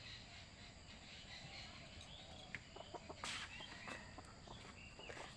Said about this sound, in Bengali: পাখির ঝগড়া শুরু হয়ে গেছে।